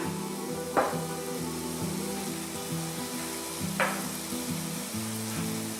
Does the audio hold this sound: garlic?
yes